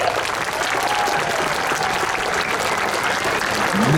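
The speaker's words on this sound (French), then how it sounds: "Merci de vos applaudissements chaleureux et très nombreux." Warm, dense applause from a large outdoor audience at the Patrouille de France 70th anniversary celebration, steady continuous clapping without pause, loud and close throughout with faint cheering mixed in.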